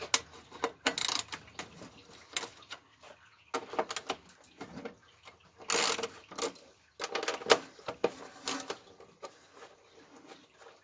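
A ratchet wrench works 3/8 bolts off an old steel-frame lawn mower, giving irregular bursts of quick clicking and metallic rattles with pauses between them, close and moderately quiet.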